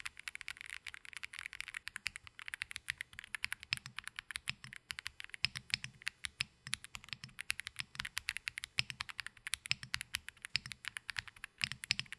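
The grey linear switches of an Epomaker Aula F99 mechanical keyboard are pressed in a steady, fast stream of close, crisp clacks with no talking.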